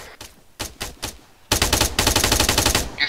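Video game gunfire in a courtyard among buildings: a few separate bursts at first, then a dense, loud run of rapid automatic fire, close and sustained with no voices.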